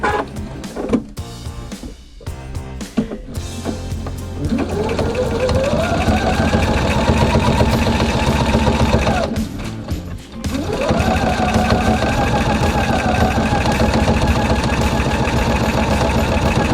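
A sewing machine stitches a fabric key fob seam in rapid continuous bursts, pausing briefly between runs, with no talking over it.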